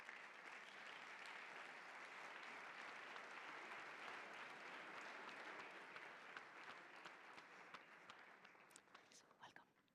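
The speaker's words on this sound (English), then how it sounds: "So please, let's give them a warm round of applause." Conference attendees give the speakers a sustained round of applause, thick steady clapping across the room that begins tapering off near the end.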